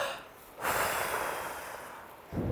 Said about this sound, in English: Can you take a deep wind breath?